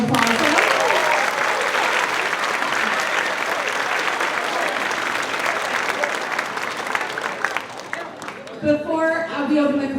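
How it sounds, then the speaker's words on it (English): A school concert audience gives a long, loud round of applause for a 7th grade band, dense clapping filling the hall before fading near the end as a few scattered claps and stray sounds remain. "Can we give these 7th graders one more round of applause for them?"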